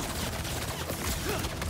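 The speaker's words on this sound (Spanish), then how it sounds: "Disparo." Rapid gunfire from the video game Marvel's Spider-Man 2, a dense, continuous burst of shots with no clear pause between them, loud throughout the short stretch.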